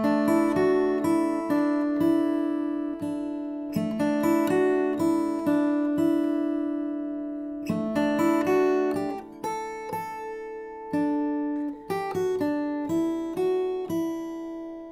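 A simple melody on guitar, its notes left ringing over one another, heard close and steady. It moves in short phrases with brief pauses between them, and no voice joins in.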